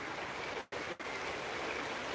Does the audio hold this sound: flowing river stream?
yes